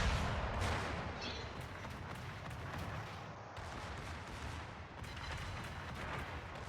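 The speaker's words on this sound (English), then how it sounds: "So I'm going to put a shot on the Duke of York" Naval gunfire from the battleship Prinz Heinrich shooting at the Duke of York in World of Warships: a dense, continuous roar of heavy booms and rumble that stays loud throughout, with a brief dip midway.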